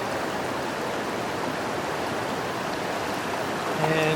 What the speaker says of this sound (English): Current's going pretty good.